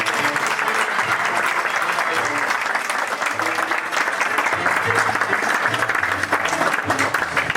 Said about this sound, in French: Encore un applaudissement pour Farid Abdelkarim.